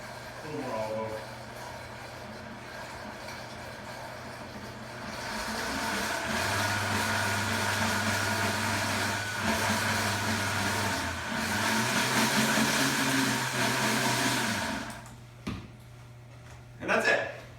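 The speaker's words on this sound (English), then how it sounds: "And then back in the blender we go." A blender whirs in bursts, processing a chunky mixture with olive oil and salt, its motor droning steadily for several seconds at a time before stopping, under a person talking.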